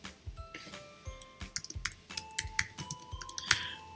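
Computer keyboard keys are tapped while working in Cricut Design Space: a short, irregular run of light, crisp clicks, close and fairly quiet, with no talking.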